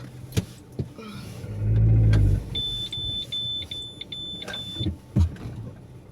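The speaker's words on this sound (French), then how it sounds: "désolé pour la sonnerie, c'est souvent que vous entendez ça, la sonnerie de la voiture" A car's warning chime sounds as a string of short, evenly spaced high beeps, clear over a low engine rumble and some road noise.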